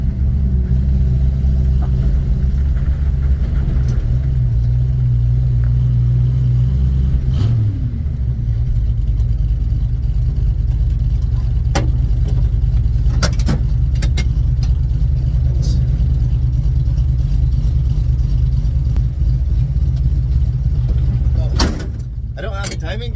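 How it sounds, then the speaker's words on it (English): Ford F100 V8 idling after its carburetor and ignition timing are adjusted, a loud, steady low rumble that shifts slightly as the idle rises, with a few clicks and clanks near the engine bay. "I'm kind of just advancing it by, hearing the idle go up a little bit."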